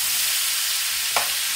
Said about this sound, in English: Fresh vegetables have enough water in them where you can steam them really good just in a frying pan